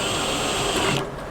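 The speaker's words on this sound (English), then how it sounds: "The spot weld driller is way easier if you can find the spot welds." A spot weld drill bores into rusty sheet metal on a 1962 Chevrolet C10 pickup, a loud, close, high whine with steady grinding that cuts off abruptly near the end.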